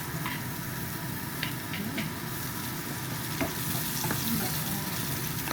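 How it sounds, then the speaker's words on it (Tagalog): Aromatics and onion sauté in a hot pan, a steady close sizzle with occasional scraping stirs and small pops, no voices. "saute muna natin itong mga aromatics"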